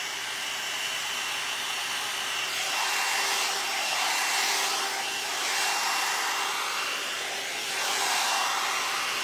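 The LaVolume Elevate heated hair styling tool gives off a steady, close airy whoosh like a hair dryer, with gentle swells in loudness and no talking, lasting the whole stretch.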